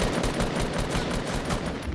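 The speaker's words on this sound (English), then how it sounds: "Oh no! I just got sniped." Sniper rifle fire in the shooting game Fortnite, a dense burst of sharp cracks rolling continuously for two seconds, loud and near.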